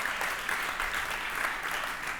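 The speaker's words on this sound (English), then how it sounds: "Okay, you can clap for him." Audience applause at a centennial gala, a continuous dense clapping from a room full of people, steady and moderately loud.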